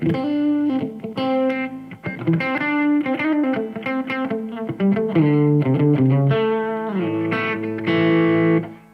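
Electric guitar strummed with distortion, half-muted chords opening and closing in choppy rhythmic bursts, loud and continuous with no talking.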